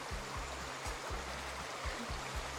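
Steady rushing and trickling of a woodland stream at a camp in the Brecon Beacons, continuous and fairly faint, with a low intermittent thumping running underneath.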